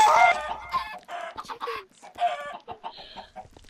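Chickens in the video game Minecraft give a quick series of short clucks and squawks, close and fairly loud, in an irregular rhythm with short gaps between the calls.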